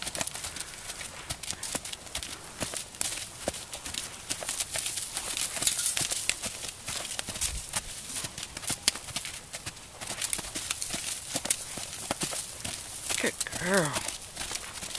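A horse trotting during headset training, its hoofbeats a steady, rapid clip-clop under a constant wash of wind and outdoor noise, with a trainer's voice speaking over the rhythm.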